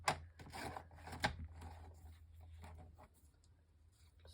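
Scissors snip and scrape through paper in a few close, soft strokes, followed by quieter rustling.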